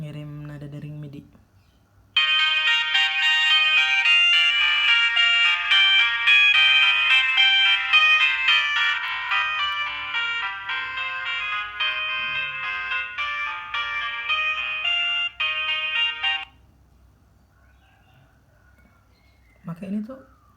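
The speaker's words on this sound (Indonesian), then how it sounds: "Ngirim nada dering MIDI." A MIDI ringtone plays on a Nokia 9300i phone, a bright, continuous polyphonic melody running about fourteen seconds and then stopping, with brief quiet before and after.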